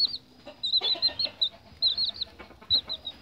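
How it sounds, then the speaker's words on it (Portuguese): Three bantam chicks peep in a small box, giving short, high, close chirps in scattered bursts over a low background hum. "Três pintinhos garnizé."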